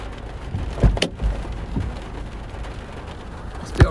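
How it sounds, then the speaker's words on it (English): Steady rain falls through a thunderstorm in Osceola, Iowa, a constant broadband wash broken by a few low thumps and rumbles near the start and end. "Still raining here."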